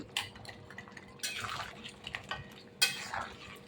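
Crab curry with ground black pepper and cumin being stirred in a pot, quiet clinks and scrapes of a utensil against the metal with faint bubbling between them.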